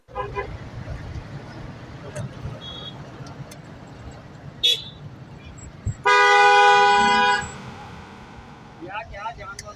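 Car on a lakeside road in Jaipur with a sustained horn blast in the middle, shorter toots and traffic around it, and people talking throughout.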